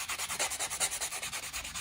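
A white 100-grit buffing block scrubs back and forth over acrylic nails, a quick rhythmic rasping of about a dozen short strokes, close and fairly quiet.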